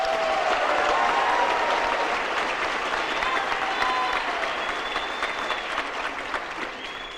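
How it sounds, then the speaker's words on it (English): Audience applause at a senior awards night: dense, sustained clapping from a large crowd, loud and steady throughout, easing slightly toward the end. "can we give them a round of applause?"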